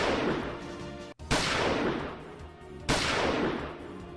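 Two loud pistol gunshots ring out about a second and a half apart, each with a sharp crack followed by a long, decaying reverberant tail; a brief silent gap precedes the first shot.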